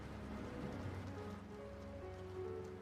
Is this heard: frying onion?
no